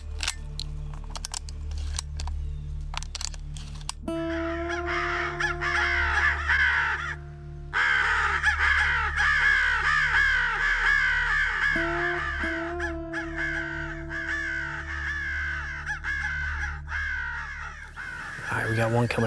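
Crows caw repeatedly during a crow hunt in a public-land field in Kentucky, harsh calls overlapping near and far with steady electronic call tones, while someone talks quietly over them.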